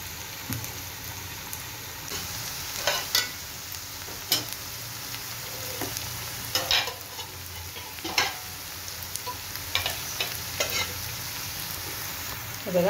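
Onion frying in a pan for methi bhaji, a low bed of steady sizzling with scattered sharp scrapes and taps of a spoon stirring, close and moderately loud, with no talking.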